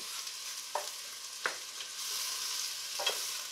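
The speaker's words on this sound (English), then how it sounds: "all I'm basically doing is standing here and stirring it" Ground beef browning in a pan for beef and bean chili, stirred by hand: a steady faint sizzle with a few sharp scrapes of the spoon against the pan, no talking.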